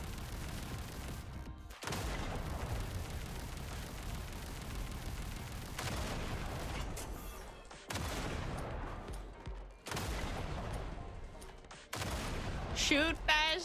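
Dense, heavy gunfire in Duet Night Abyss comes in long continuous volleys broken by short pauses, loud and full-bodied, with a voice speaking briefly near the end.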